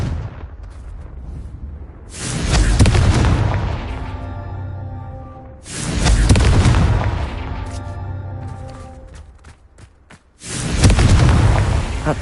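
Three heavy Confringo spell explosions in Hogwarts Legacy, spaced a few seconds apart, each a loud, deep, booming blast with a long rumbling decay and crackle, with no speech.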